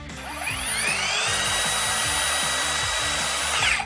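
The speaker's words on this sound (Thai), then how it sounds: "เลื่อยวงเดือนรุ่นนี้นะคะ เหมาะสำหรับช่างไม้" A Total 20V cordless circular saw, model TSL1402, cutting wood, whirs steadily for several seconds at a high pitch, then winds down, with a faint rhythmic low thumping beneath it.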